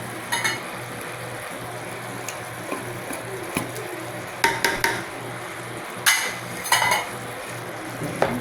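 Liver spread (Reno brand) is stirred and fried in a pan for a creamy spaghetti sauce, a low constant sizzle under occasional scraping clinks of a spoon against the pan, close and moderately loud.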